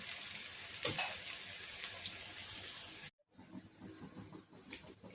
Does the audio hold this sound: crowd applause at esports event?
no